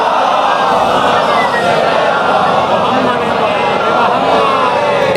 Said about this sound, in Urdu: ایک دفعہ ذرا اونچی آواز سے سلوات بھیجیے